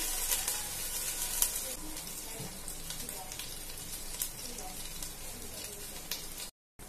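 Ginger garlic paste frying in a pan for mushroom dum biryani: a steady, close crackling sizzle with faint occasional stirring, continuous throughout, no talking.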